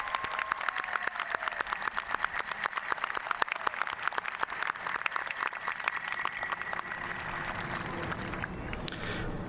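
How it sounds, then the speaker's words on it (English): An audience at a 2018 commencement ceremony applauds international students with sustained, dense clapping that carries through the whole passage and fades slightly toward the end. "Let's give our international students a round of applause."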